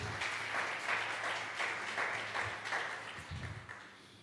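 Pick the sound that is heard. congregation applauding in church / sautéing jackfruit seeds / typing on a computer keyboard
congregation applauding in church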